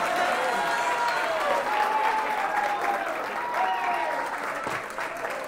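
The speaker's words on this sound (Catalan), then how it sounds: "et farem aquest gran aplaudiment" Sustained applause from a crowd, steady and fairly loud throughout, with faint voices mixed in.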